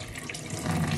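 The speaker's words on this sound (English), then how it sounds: "wash it thoroughly under cold water before I chop it" Cold tap water running steadily while a green pepper is rinsed under it, a brief close splashing stream with no talk.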